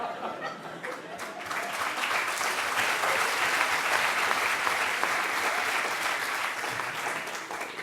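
Audience applause fills the hall at the final of a student eloquence contest at HEC Paris, a dense, steady clapping that swells within the first seconds and holds loud throughout, with a few faint chuckles mixed in.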